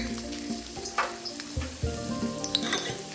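Ginger slices and scallion pieces stir-fry in the oil left in a wok after frying meatballs: a bright, close sizzle with intermittent scraping and clinks of the spatula, loud and busy, with no one talking.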